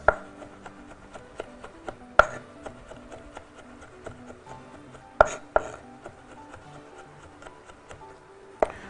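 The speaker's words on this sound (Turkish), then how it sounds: "Bunları geliş güzel çop ediyorum. Tamamen aroma katacak sarımsak içine." Garlic chopped roughly with a knife on a board for a meatball sauce, a steady run of sharp close taps with a few louder knocks, alone without talk.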